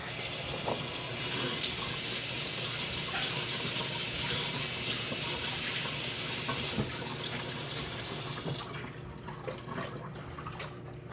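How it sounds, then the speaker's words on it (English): Tap water runs steadily into a sink as hands are rinsed in a home kitchen while making apple pie, a loud continuous rush that cuts off near the end, leaving faint clatter. "I'm gonna rinse my hands real quick"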